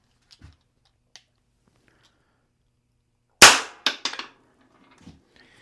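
A less-lethal, air-powered derringer fires one sharp, loud pop out of near silence, followed by a few quick mechanical clicks and rattles.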